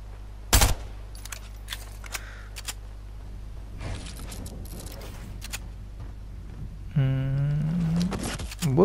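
A single sharp gunshot in Fortnite, loud and close near the start, followed by quieter scattered clicks and mechanical sounds over a low steady hum, with a brief rising whine near the end.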